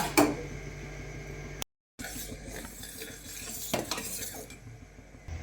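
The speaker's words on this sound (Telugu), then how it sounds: "ఇప్పుడు పాలు అడగంటకుండా మంచిగా కలుపుకుంటా కాగబెట్టుకోవాలి చిక్కగా అయినాక" Milk stirring in a pot for basundi, a spoon scraping and clinking against the pan with a steady background rumble, a brief cut in the middle, then more scraping and knocks.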